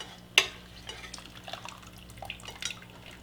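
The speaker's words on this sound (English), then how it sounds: "So I'll let this drain for a moment." Seafood stock broth draining through a fine mesh sieve: a soft, steady trickle with small drips and light clinks of metal, quiet and close, after one sharp tap at the start.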